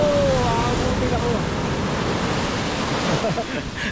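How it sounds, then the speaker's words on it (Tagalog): Strong ocean waves surge and roar continuously at La Union beach in the Philippines, a loud, close wash of surf mixed with wind buffeting the microphone. "Ang lakas ng alon."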